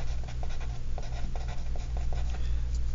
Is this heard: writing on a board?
yes